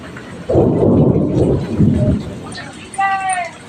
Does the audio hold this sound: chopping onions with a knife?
no